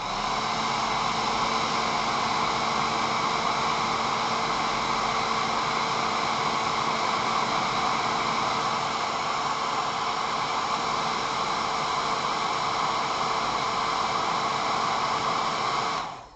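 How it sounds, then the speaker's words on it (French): A steady, loud whooshing drone with a faint motor whine runs unbroken for the whole stretch, a hair dryer blowing close by to set lacquer on a hobby model, then cuts off. "on va lui mettre un coup de sèche-cheveux, justement pour arrêter, pour bien fixer la laque"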